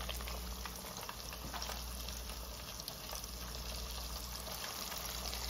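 Breaded baby back ribs bubble in hot grease in a home kitchen, a steady close crackling and seething boil that holds evenly throughout without voices.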